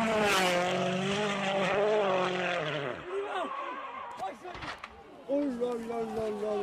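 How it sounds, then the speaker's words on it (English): A Hyundai rally car in a 2016 WRC event on a fast downhill stage, its engine screaming at high revs in sixth gear, then abruptly cutting off with rough sputters as it nearly loses control, loud and close. "he tackled a fast downhill section in sixth gear and all but lost control of his Hyundai"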